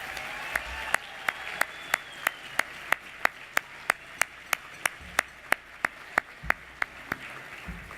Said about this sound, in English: Let's give them and the entire wait staff and serving team a round of applause,